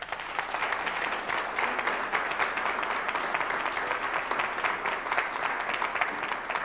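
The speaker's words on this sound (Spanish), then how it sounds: "démosle un fuerte aplauso a la palabra de Dios" A church congregation gives a loud, sustained round of applause for the word of God during a Spanish-language evening service, dense steady clapping filling the room from start to finish with no voices over it.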